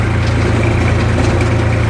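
A New Holland 5510 4WD tractor runs an Agrikarm 7.5-foot rotavator with the PTO engaged. Its diesel engine gives a loud, steady, close low drone with no breaks.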